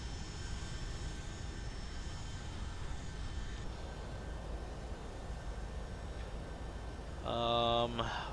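Aircraft engines drone steadily in flight in X-Plane 11, a quiet, even hum with a faint whine, with a short beeping tone near the end.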